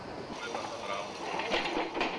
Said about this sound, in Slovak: potom vlaky ťahali z oboch strán